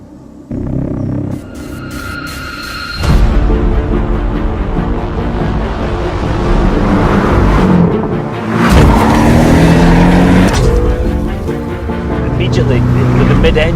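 A mid-engine Porsche sports car runs loud and close, with engine rumble rising and falling through gear changes and bursts of acceleration after a quieter start.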